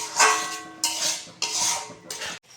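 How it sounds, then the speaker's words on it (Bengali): Spice paste for chicken curry stirred and fried in a pan, four quick bursts of scraping and sizzle separated by short pauses, close and fairly loud, no voices. "যতক্ষণ না তেল ছাড়বে আমি মশলাটা কষিয়েই যাব এইভাবে"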